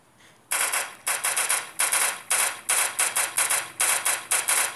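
Rapid bursts of video game gunfire from the browser game Giant.io, a dozen or so sharp clustered shots fired in quick succession, loud and close, with almost no talk.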